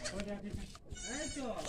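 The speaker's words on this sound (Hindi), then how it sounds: "देखिए कैसी है बकरी, ये कौन सा महीना है?" A goat bleats in short wavering cries, close and fairly faint, with a person talking around it.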